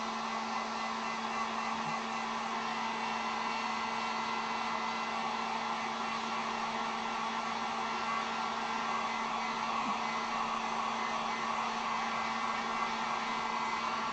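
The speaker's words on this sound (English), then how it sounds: "let me actually hit this with the heat gun real quick" A heat gun blows continuously over an acrylic-painted sign, giving a steady, unbroken close-up whoosh with a faint hum, and no voices.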